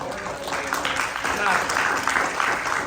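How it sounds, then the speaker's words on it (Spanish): A church congregation in Kilgore, Texas applauds, with close, continuous clapping mixed with excited voices for nearly three seconds. "Que ese aplauso sea para gloria y honra del Señor."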